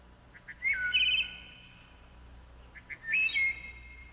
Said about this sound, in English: that sounds like the call of a wood thrush